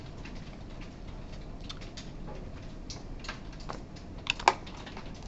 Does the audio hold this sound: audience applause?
no